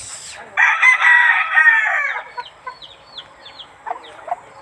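A rooster crows loudly nearby in one long, drawn-out call, followed by softer chirps and clucks from other birds.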